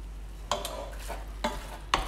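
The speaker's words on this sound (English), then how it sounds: "We now need a bit of heat in there to start frying everything together" Chicken and pepper sizzling and frying in a pan for chicken tikka masala, with a few distinct scrapes and knocks of a utensil stirring, close up, no talking.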